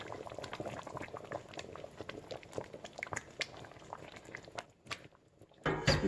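Fante Fante fish stew with onions and pepper simmers at a steady, bubbling boil, a dense patter of pops and gurgles running throughout before a brief pause and a louder burst at the end.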